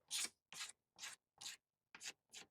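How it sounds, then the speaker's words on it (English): Six short, quiet scraping strokes with a razor blade lightly taking a dried layer off a Kawasaki XL250R motorcycle tank, evenly spaced and close, with no talk. "let the razor do the work"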